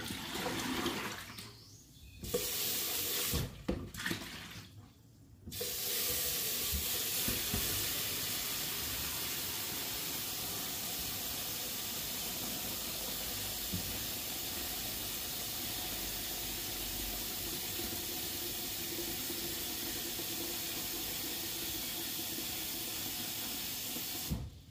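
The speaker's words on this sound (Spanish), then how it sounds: "vamos a cambiar el agua de los perris" Tap water runs steadily into a bowl to refresh the dogs' drinking water, a continuous hissing splash lasting about twenty seconds after a few brief handling noises at the start, with no talking.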